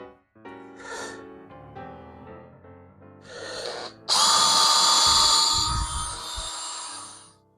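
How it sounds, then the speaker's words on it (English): A power drill bores a hole for a DIY hose hanger in a garage, starting with short revving bursts and then running hard and loud in one sustained stretch before winding down. "if I drill the hole here"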